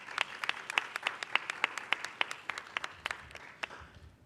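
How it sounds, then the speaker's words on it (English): A small audience at a press conference claps steadily for several seconds, the individual claps distinct and fairly close, thinning out toward the end. "Can we give them a round of applause,"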